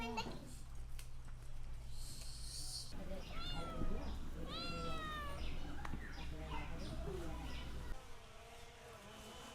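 Cats meow in a simple rural Bangladeshi home yard where dogs and chickens also gather while fish is cut; several rising meow calls come through steady low hum and buzzing, moderately close.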